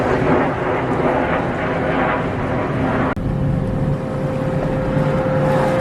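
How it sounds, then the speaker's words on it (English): A Chevrolet S10 Blazer idles in a driveway, a steady low engine rumble with a constant hum, loud and close, with a brief dropout partway through. "just letting it sit here and idle in the driveway, it's going to get hot"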